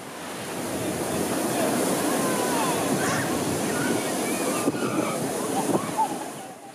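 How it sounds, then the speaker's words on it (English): Ocean surf at an evening beach near Accra, Ghana, a steady broad wash of breaking waves with some wind noise, loud and continuous throughout. "it's time for an evening swim in the ocean"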